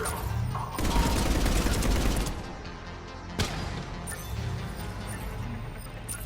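Sci-fi gunfire in Mass Effect 3, a dense rattling burst of rapid shots from about 0.8 to 2.3 s, then a sharp single crack near 3.4 s over a busy battle din, with no talking.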